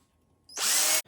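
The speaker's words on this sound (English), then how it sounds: "I'm using a drill because I figure most people have a drill" A short, loud whine of a power drill sharpening a Harbor Freight axe, grinding against metal, starting suddenly and stopping after about half a second.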